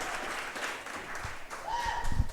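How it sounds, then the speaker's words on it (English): Applause from a school audience at Berger U during a coaches' show, a moderate, steady patter of clapping with some crowd noise and a brief tonal sound near the end. "Can we please give a round of applause to the fine folks here at Berger U?"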